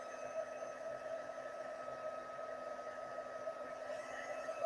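A heat gun blows steadily while melting embossing powder on a card, a continuous whirring hum with an airy hiss, moderately close and unchanging, with no talk.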